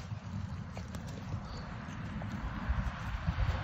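Hooves of a stud horse clip-clop at a slow walk over a steady low rumble of outdoor background noise, moderately near.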